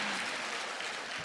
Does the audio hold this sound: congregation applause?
yes